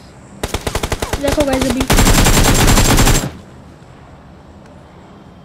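Close, loud automatic gunfire in the battle royale mobile game BGMI: a run of single shots quickens into sustained rapid bursts, then stops abruptly, while someone speaks Hindi briefly over it.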